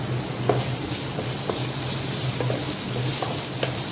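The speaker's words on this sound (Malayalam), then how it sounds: "സ്പ്രിംഗ് ഓണിയൻ്റെ പച്ച വരുന്ന ഭാഗം അടുത്തിട്ട് കൊടുക്കുക. അതും കൂടെ ഇട്ട് നന്നായിട്ട് യോജിപ്പിക്കുക." Spring onion greens stirred into frying gobi manchurian, with a steady loud sizzle and faint, evenly spaced scraping stirs over it, and no talk.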